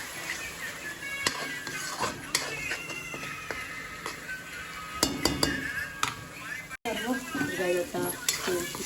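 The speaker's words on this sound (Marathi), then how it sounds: "चांगलं वाटण शिजून घेऊया." Ground spice paste with curry leaves frying in ghee in a pan, a steady sizzle broken by repeated scraping and clinking as a spoon stirs it against the metal.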